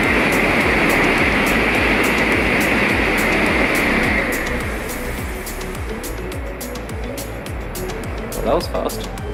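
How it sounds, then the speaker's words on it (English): A Japanese bullet train rushes past close by with a loud roaring whoosh that fades over a few seconds, leaving rumbling ambient noise; a brief voice sounds near the end. "Jeez, there's a bullet train now."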